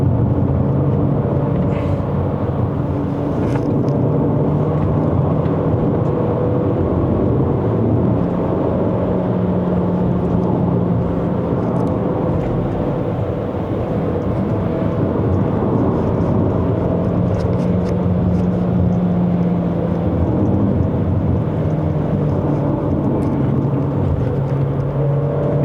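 A Chery Tiggo Cross 1.5 Turbo climbs a winding mountain road to Genting in Malaysia, its engine a steady low drone and whir with road rumble heard from inside the cabin throughout.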